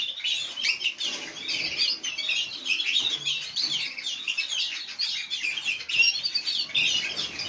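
Many small birds chirp and twitter densely and continuously in a breeding aviary, including a female raising four chicks, a steady close chorus of overlapping high tweets with no voices.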